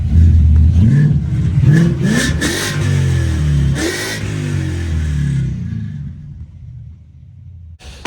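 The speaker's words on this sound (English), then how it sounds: "it's idled down a little bit now, so I'm gonna give it a little rev for you" A Ford Coyote V8 swapped into a car revs up in several loud, close bursts that rise and fall, then settles back to a rumbling idle and quiets down near the end.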